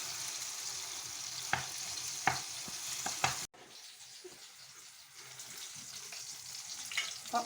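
Minced meat sizzles in a hot pan with a few spatula knocks and scrapes, then after an abrupt cut a quieter, steady frying hiss continues up close, with no voices.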